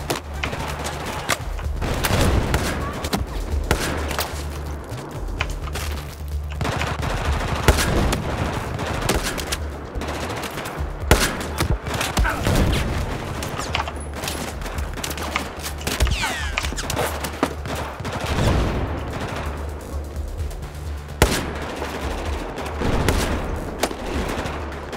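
Sustained automatic gunfire and bursts in the video game Battlefield, with rapid shots and thuds filling the whole stretch, loud and close, with occasional faint voice underneath.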